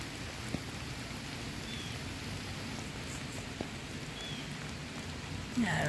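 Steady heavy rain pouring down outdoors, a dense even hiss filling the whole stretch at moderate level with a few faint clicks and no talking.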